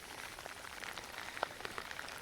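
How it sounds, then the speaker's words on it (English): Rain falls outdoors on a farm, a steady, fairly faint patter of drops with no voices over it. "It's raining."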